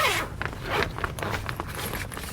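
A zipper on a Crafuel Summit Breeze rooftop tent is worked in short repeated scrapes and pulls at close range, with fabric rustling between strokes and no voices.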